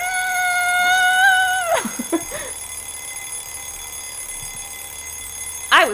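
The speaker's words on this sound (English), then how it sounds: "I was woken up by the noisy alarm clock." A noisy alarm clock in the game Nameless rings with a shrill, warbling electronic tone for under two seconds, then cuts off. A few scattered sounds follow, and a short burst comes at the end.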